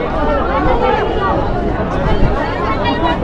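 Dense crowd chatter at Ramghat in Chitrakoot by the riverside, a steady close hubbub of many overlapping voices with nearby talk and footsteps.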